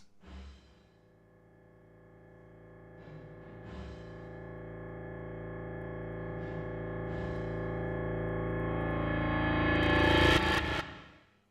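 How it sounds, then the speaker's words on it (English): A sustained piano tone swells gradually louder as if played backwards, building to a peak before cutting off sharply at the end. "This version of the song ends with a backwards piano."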